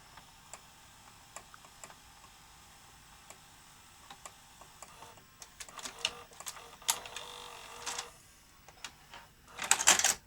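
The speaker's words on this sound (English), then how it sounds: "Yes, that was a clean eject that time." A VHS tape ejecting from an old 2005 VCR: faint mechanical ticking at first, then a louder run of whirring, clicks and clunks as the mechanism pushes the cassette out, ending in a sharp clatter.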